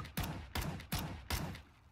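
Four evenly spaced gunshots in the Overwatch video game, each a sharp, loud crack with a short decaying tail, following one another in under two seconds with no talk.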